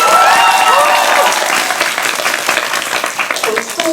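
Audience at a Korean film talk event for the movie Exit applauds in a loud, dense burst of clapping that tapers slightly, with voices and faint cheers mixed in near the end.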